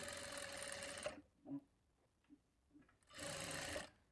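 A sewing machine stitching a blouse runs in two bursts of fast, whirring stitching at the start and end, separated by quiet moments with faint handling clicks and fabric rustle, heard close with no talking.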